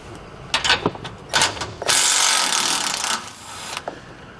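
A ratchet wrench with a socket loosens bushing clamp bolts on a 2019 Chevrolet Express van, giving short clicking bursts followed by a long, steady ratcheting run, loud and close, with no talking.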